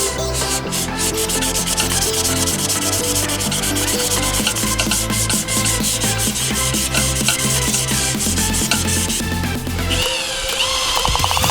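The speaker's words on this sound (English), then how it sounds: "on this back side that you don't see, I'm going to go ahead and sand this one and see if there is a difference." Sanding aluminum near welds in a car engine bay, a loud continuous abrasive rubbing with rapid rhythmic scraping strokes throughout, close to the listener and shifting in pitch near the end.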